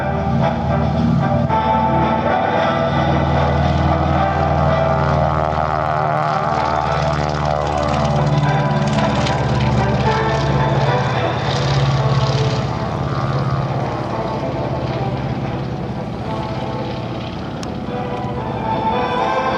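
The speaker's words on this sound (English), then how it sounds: "Something about the pitter-pat of a round engine on a beautiful day." A Beech 18 Expeditor with twin radial engines roars through its takeoff roll at an air show, a loud, close, sustained propeller drone with throbbing engine harmonics that swells slightly and holds steady throughout.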